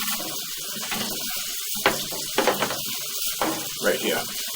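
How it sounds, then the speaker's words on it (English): Water runs from a tap in a plumbing setting, a steady hiss that dips in and out, broken by a few sharp knocks and clatters, with no talk over it. "I'm going to shut the water off."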